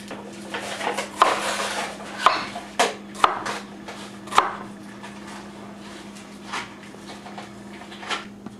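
Knife cutting through an onion on a board, giving several crisp chopping thuds spread irregularly across the clip over a steady low background hum, with no talking.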